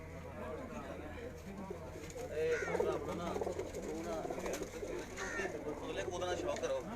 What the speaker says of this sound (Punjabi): ਉਹਨਾਂ ਦੇ ਘਰ ਦੇ ਫਰਾਂਸੇ ਕਬੂਤਰ ਨੇ ਜੀ ਇਹ